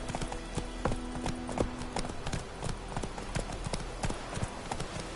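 Roach the horse trotting in The Witcher 3 video game, hooves clip-clopping in a steady, even rhythm for several seconds, close and distinct over a low ambient hum.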